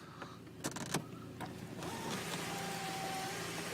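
Electric sunroof motor on a 20th Anniversary Volkswagen GTI whirring steadily as the roof opens, a close, even mechanical drone with a faint rising whine, preceded by a few sharp clicks and knocks.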